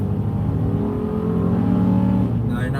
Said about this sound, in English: This guy's got a Honda Civic that sounds like it's fast.